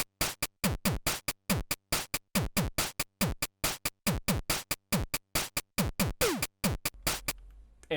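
Chained drum patterns from a PO-20 pocket drum machine play back as a steady, busy beat of kicks, snares and hats, clear and close with no voices, stopping abruptly near the end.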